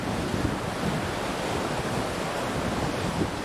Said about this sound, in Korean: 멀리서부터 길을 찾던 파도가 좁은 골짜기로 힘을 모아 몰려온다.